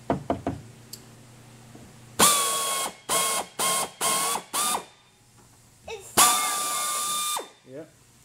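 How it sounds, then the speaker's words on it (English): A power drill chamfers freshly drilled holes in aluminum, working dry without oil. Several whining bursts of varying length sound close by, alongside knocks and clicks of handling. Short quiet gaps separate the bursts. "Chamfering the holes so it's not sharp."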